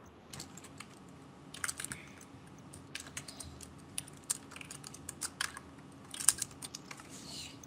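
Computer keyboard typing during a gaming session, irregular bursts of close key clicks and clacks with brief pauses, alone without talk.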